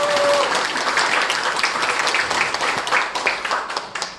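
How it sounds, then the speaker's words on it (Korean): Audience at a Korean Won Buddhist temple gathering applauds a minister, a full, loud burst of many hands clapping that carries on steadily, with a murmur of voices mixed in. "우리 당산이면 박수 한번 쳐주세요"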